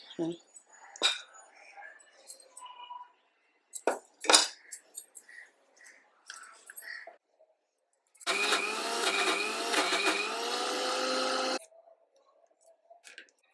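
Kitchen clinks and soft talk are followed by a mixer grinder roaring loudly for about three seconds as it grinds green chillies, chana dal and ginger into a paste, then stopping abruptly.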